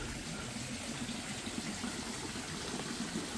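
Water fills a plunge pool at a forest staycation in Hulu Langat, a steady, even rushing gush that continues without a break, moderately faint.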